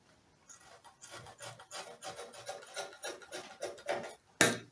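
Scissors cutting fabric for a pleated gown, a series of repeated rasping snips in uneven rhythm, close and fairly loud, ending with a sharper final cut.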